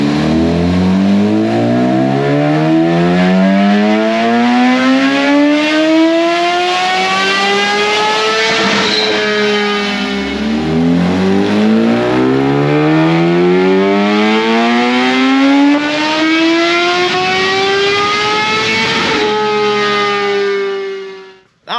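A Kawasaki Ninja H2 SX motorcycle with a Brock's PentaCarbon exhaust screams through two long dyno pulls, the engine pitch climbing steadily to a high wail, dropping at a gear change, then rising again, very loud and close throughout.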